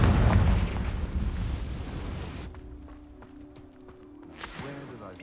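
A Confringo explosion spell in Hogwarts Legacy bursts with a loud, deep blast and a rumbling roar. The roar dies away over about two seconds, leaving quiet ambience with faint clicks and a small pop near the end.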